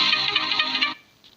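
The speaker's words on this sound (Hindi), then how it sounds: "क्योंकि दरमियान में एक कॉल आ गई थी, किसी दोस्त ने कॉल की थी।" A mobile phone rings with an incoming call: a bright, buzzy electronic tone held loud and steady for about a second, then cut off abruptly into near silence.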